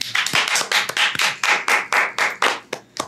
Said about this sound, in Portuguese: Seja bem-vindo, pastor Luquinhas! Aplaudam!